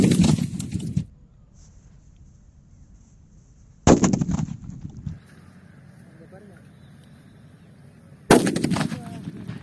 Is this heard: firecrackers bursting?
yes